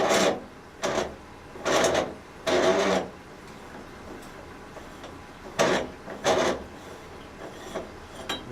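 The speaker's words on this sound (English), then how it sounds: "Remove the outer ring by turning counterclockwise." The outer ring of a retro underwater pool light is twisted counterclockwise, producing several rough rasping scrapes in short bursts, close and fairly loud against a steady low hum.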